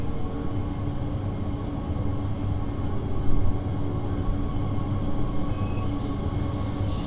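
A late-night local train in Train Sim World 4 brakes as it pulls into a station: a steady rumbling rolling drone with faint rising squeals near the end, heard alone without voices.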